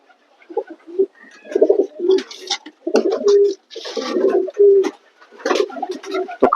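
Domestic pigeons kept as a pair coo in a repeated series of soft, throaty phrases close by, each burst separated by short pauses, with faint background rustling and no one speaking.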